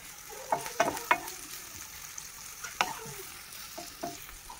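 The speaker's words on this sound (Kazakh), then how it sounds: "Енді бірінші болып табаға пиязды саламыз. Оны әдемілеп тұрып, қызартып, қуырып аламыз." Chopped onions sizzle softly in a frying pan, and a few clinks and scrapes of a spatula stirring sound close by, with no talking.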